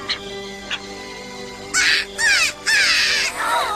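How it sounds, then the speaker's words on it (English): A tiny cartoon baby eagle cries out in a run of high, squeaky, wavering calls, a few brief chirps first, then three longer screeching bursts close up over a faint background. "Look, it's that tiny eagle."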